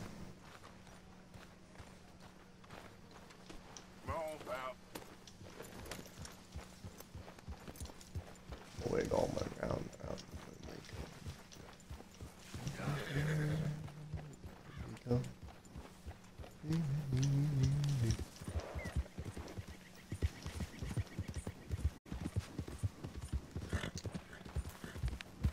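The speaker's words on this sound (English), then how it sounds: "Come here, horsey." Horse from the Red Dead video game: soft clip-clopping hooves and a brief whinny, heard faintly under ongoing talk.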